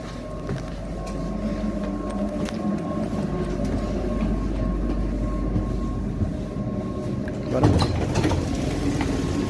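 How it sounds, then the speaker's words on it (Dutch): A GVB tram in Amstelveen rumbles past close by with a steady low drone and a brief louder clatter near the end, while a person speaks over it. "Tram."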